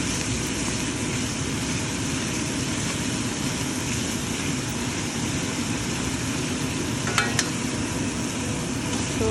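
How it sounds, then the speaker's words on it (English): Beef and onions fry in a pan with little oil while being stirred and broken up. The sizzle is a steady, dense hiss throughout, with a few brief scraping knocks near the end and no talking. "Break the meat, mix it with the onions."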